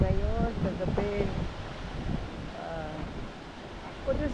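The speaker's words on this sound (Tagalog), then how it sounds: "Mahangin sa ngayon" Gusty wind buffets the microphone at a river camp in Botolan, Zambales, a continuous blustery rumble running under voices talking.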